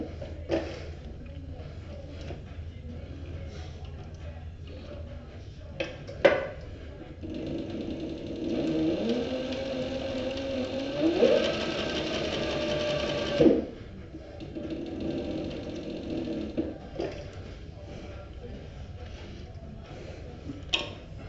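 A sewing machine stitching a Maker's Leather cover for a spiral notebook with natural-colored thread, running in a steady whirring burst of several seconds framed by quieter handling clicks, close by and mostly without talk.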